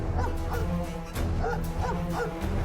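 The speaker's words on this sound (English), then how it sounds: "That's a lot of dogs." Several dogs bark and yip in repeated bursts during a fight in the role-playing game Stoneshard, close and loud, with short whimpering between barks and no talking.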